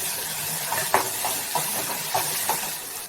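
Chopped tomatoes and onions with salt stirred in a hot pan, a hissing sizzle under soft, evenly spaced spoon strokes, close and steady with no talking.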